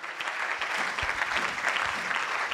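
A church congregation claps in dense, steady applause with scattered cheers, a sustained rolling burst of many hands filling the room without a break.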